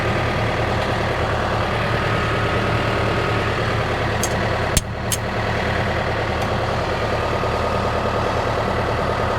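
A tractor engine runs steadily at close range while a Maschio Giraffa XL topper is being hitched, a loud continuous low rumble with a brief sharp click partway through and no talk.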